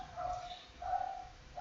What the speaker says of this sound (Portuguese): O meu cachorro aqui não para de latir